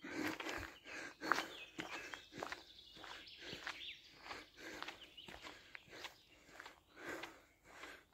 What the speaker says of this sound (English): You can listen to the birds chirping and the sound of my